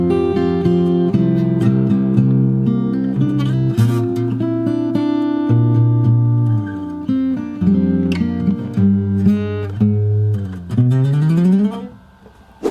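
Fingerstyle acoustic guitar plays a section of The Mandalorian theme, with a low bass line under plucked melody notes and slides. It sounds close and clear, closing on a rising slide up the neck.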